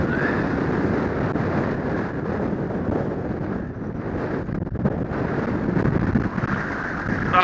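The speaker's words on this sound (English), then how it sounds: "far too windy to do anything" Strong, steady wind roars and buffets the microphone at a coastal lighthouse on the southernmost point of Scotland, a loud continuous rumble with gusty swells and no talking.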